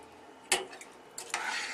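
Cups of stock poured into a pot of rice for arroz con gandules, with a sharp clatter of a utensil against the pot followed by a broad, steady splashing pour that continues to the end.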